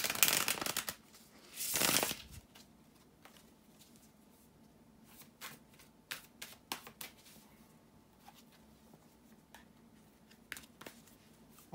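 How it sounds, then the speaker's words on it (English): Tarot cards being shuffled by hand, two loud riffling bursts at the start followed by softer scattered taps and slides of the deck, close and quiet with no talking. "bear with me a second, guys, to shuffle the tarot cards"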